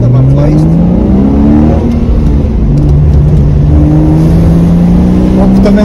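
Porsche Cayman 2.7 pulling hard through first and second gear, its engine note climbing loud and close, dropping briefly at the shift and rising again, sustained throughout.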